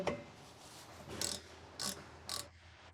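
Medium ratcheting wrench with a 7mm hex bit socket driving the lower brake caliper guide pin on a 2011 Mazda 3, giving three short, bright ratchet bursts spaced about half a second apart over a quiet background.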